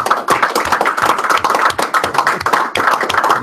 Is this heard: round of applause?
yes